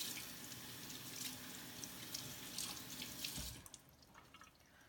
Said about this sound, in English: now we're gonna rinse them so we can remove the corn